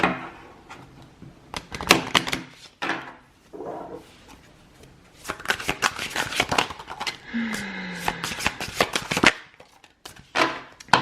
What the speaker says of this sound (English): I'll live shuffle for this group.